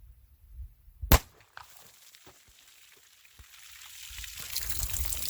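A .40 S&W DoubleTap 200-grain hardcast round fires into water jugs: one sharp, loud crack rings out alone, followed by faint knocks, spraying water and a rising outdoor wash of noise.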